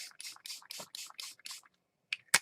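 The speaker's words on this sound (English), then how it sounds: "then I'm going to spray the back" A series of about seven short hissing spray bursts onto the back of paper in a steady rhythm, close by, followed by a pause and two sharper final sprays.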